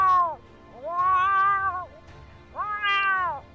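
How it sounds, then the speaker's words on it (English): A cat gives three clear, drawn-out meows of rising and falling pitch, spaced about a second apart. The calls are loud and close, with a faint murmur of background noise beneath them and no talking. "it's met by a cacophony of other cat sounds"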